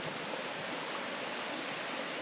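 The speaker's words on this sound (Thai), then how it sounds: "เป็นน้ำตกนะครับติดกับ น้ำตกเลยนะครับ" A waterfall beside a resort's lodging in Nan province, northern Thailand, producing a steady, loud, broadband rush of falling water with no pauses or voices.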